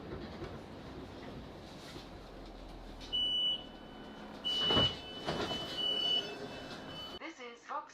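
A South Western Railway Class 458 train rumbles toward Vauxhall station, a low rolling clatter with brief tonal beeps and a louder passing surge, faint and steady under a background hum.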